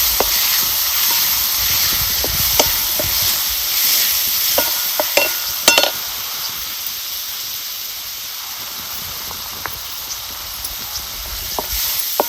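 Chutney roasting in hot oil in a pan, a loud, close, continuous sizzle with scattered crackles and stirring scrapes, no talk.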